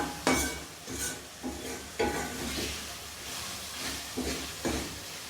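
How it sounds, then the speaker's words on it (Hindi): Spices for mixed dal fry in a pot with a sizzling hiss, broken by about eight rhythmic stirring scrapes spaced roughly half a second to a second apart, up close. "अभी हम मसालों को अच्छी तरह से फ्राई कर लें"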